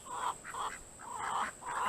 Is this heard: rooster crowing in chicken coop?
yes